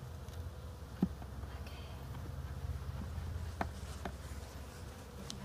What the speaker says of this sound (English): There's bees inside.